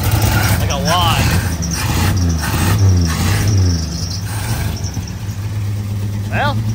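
A 1953 Chevrolet 3100 pickup engine idles roughly nearby, running for the first time in years with a leaking fuel filter, its steady low rumble sitting under people talking.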